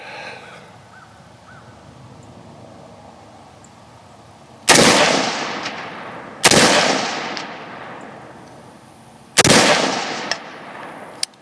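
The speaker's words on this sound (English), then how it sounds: "There we go, that was the first shot." Three sharp rifle shots from a KAC SR-15 MOD2 at an outdoor range, loud and close, each followed by a long decaying echo, spaced a few seconds apart with quiet ambience between.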